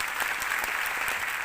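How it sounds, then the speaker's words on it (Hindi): An audience claps steadily and densely at a business achievement gathering, a brief sustained burst of applause filling the room with no voices over it. "मिस्टर अजय डागर जी, मैं जरूर चाहूँगा उनके लिए जोरदार ताली।"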